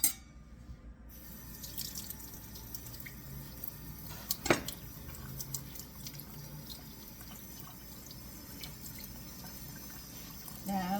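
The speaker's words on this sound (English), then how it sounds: "you spread these as the water runs through it, and you'll see the dirt coming out." Tap water runs steadily over spinach leaves being washed in a kitchen sink. The flow is a soft, continuous wash of noise, with one brief sharp knock near the middle and a few faint drips.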